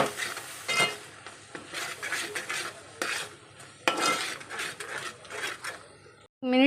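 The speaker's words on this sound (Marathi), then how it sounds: "यामध्ये आता आपण हे जे वाटण करून घेतले ते घालून घ्यायचे आणि छान त्या मसाल्यामध्ये परतून घ्यायचे ते" Ground masala paste being stirred and sautéed in a pan while cooking chhole chana usal, with scraping spoon strokes, clinks against the pan and a soft sizzle underneath, all up close.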